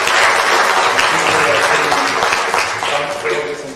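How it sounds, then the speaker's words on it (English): A conference audience breaks into loud, close applause for an event organizer, dense clapping filling the hall with some voices mixed in before it tapers slightly. "I think a big round of applause for this man"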